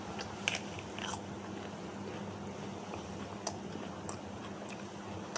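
Someone bites into a fresh hog plum (amra), with a few crisp crunchy bites and chewing sounds close up over a steady low background hum, no talking.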